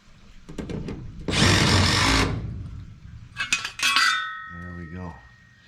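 Power drill, used while replacing the heat exchanger in a Carrier 59MN7 furnace, whirring in a loud burst of about a second, then a few shorter, higher trigger bursts with clattering metal handling.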